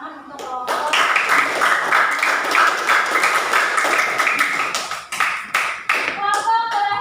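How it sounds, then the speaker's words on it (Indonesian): Students in a classroom clap for a group, sharp dense hand claps that swell after a short pause, with a voice speaking near the end as the clapping fades. "Silakan beri tepuk tangan untuk kelompok."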